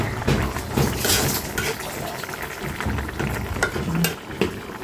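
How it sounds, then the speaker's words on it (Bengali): Rui fish pieces being stirred through a simmering curry with mixed vegetables in a traditional Bengali village kitchen: a steady wet sizzle with soft scraping and sloshing strokes, close and moderately loud, with no voices. "মাছগুলো দিয়ে দিলাম। একটু সুন্দর করে নেড়ে চেড়ে দিব।"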